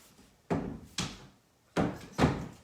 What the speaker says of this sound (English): Door is banging with the wind.